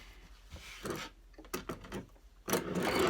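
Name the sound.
sewing machine stitching a fabric face mask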